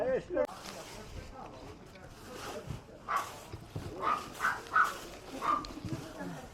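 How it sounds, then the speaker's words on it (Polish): White dog in a basket gives a series of short, faint yips and barks at a distance, scattered across several seconds beneath nearby conversation. "to biały w koszyku tam szczeka"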